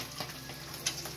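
Eggs for Ilocos empanada fry in a pan with a soft, steady crackling sizzle and a few sharper pops, quiet and close, with no talking.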